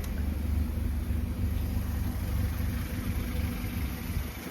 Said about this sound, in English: What you can slightly hear is a bit of ticking from the injectors, which is normal.